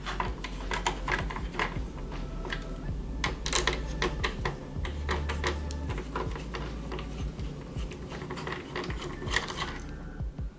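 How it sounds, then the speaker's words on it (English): Small Phillips screws being turned out of a PS4 Slim motherboard bracket by hand, producing dense close-up clicking and ticking with scraping metal taps, continuous and busy, without talk. "we have to unscrew the 2 Phillips screws holding the bracket"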